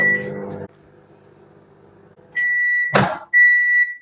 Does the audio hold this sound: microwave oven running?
yes